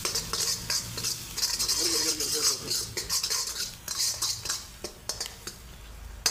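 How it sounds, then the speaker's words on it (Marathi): A utensil scrapes and clinks against a pan as chilli powder is stirred into a peanut amti, a fasting-style curry. The stirring comes in quick irregular strokes, with a faint sizzle underneath. "त्याला मिक्स करतो"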